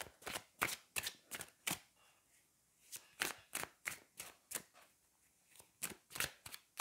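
Tarot cards are shuffled in quick bursts of crisp riffling slaps, a dozen or so sharp flicks in uneven clusters with short pauses, close and clear, no voices.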